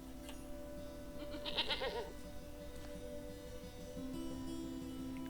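A goat bleats once in a video game, a short wavering cry heard over steady background music and ambient hum, moderately loud and close.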